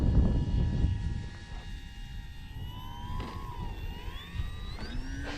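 Radio-controlled model airplane in flight, its small engine or propeller droning steadily with rising and falling pitch as it passes, moderately distant against outdoor background noise.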